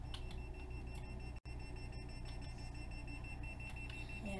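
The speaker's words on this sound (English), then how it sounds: "Yeah, the alarm is going off." A house alarm in the Roblox game Welcome to Bloxburg rings steadily with a high repeating electronic tone over a constant backdrop, heard alone without talk.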